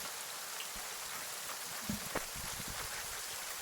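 Heavy rain battering a small cabin at night, a dense steady hiss of drops with a few louder close patters and knocks scattered through.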